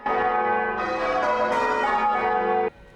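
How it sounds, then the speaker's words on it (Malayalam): Church bells pealing in the Swan Bell Tower in Perth, Australia, bright overlapping metallic tones ringing loud and steady, then stopping sharply with a brief fading ring. "ഇവിടെ ബെൽ റിംഗിങ് പെർഫോമൻസ് നടക്കാറുണ്ട്"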